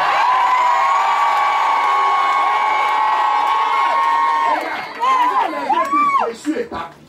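A church congregation shouting and cheering loudly during a Sunday service, a sustained roar of many voices that breaks into scattered whoops and individual shouts near the end.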